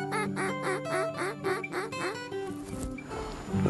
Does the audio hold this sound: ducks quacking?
yes